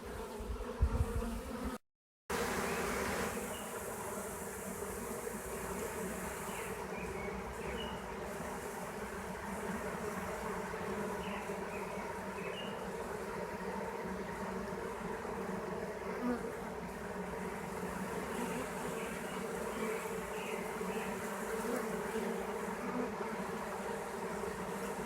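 A virgin swarm of honey bees with many queens hums in a dense, continuous buzz, close and steady for the whole stretch after a brief dropout near the start.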